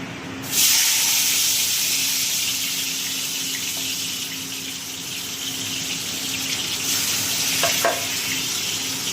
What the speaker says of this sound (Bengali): এই যে আগে উচ্ছেটা ভেজে নেবো।